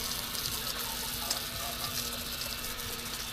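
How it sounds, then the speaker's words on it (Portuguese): Water is poured over the chassis of a 2008 Honda CG 125 Fan motorcycle to rinse it, a steady splashing hiss running continuously at moderate loudness with no voices. "Vou jogar água nele aqui, ó."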